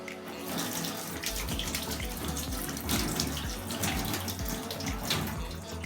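Running tap water pours steadily into a sink during six-step handwashing with soap, a continuous splashing stream with rubbing and dripping textures, close and fairly loud throughout with no voices.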